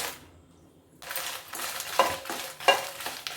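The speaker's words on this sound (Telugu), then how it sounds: "కొద్దిగా వేసి ఎండుమిరపకాయలని వేపుకుందాం" Dried red chillies tossed in a spoon of hot oil in a kadai, a soft sizzle with metallic stirring clinks from a spoon against the pan, close and without speech.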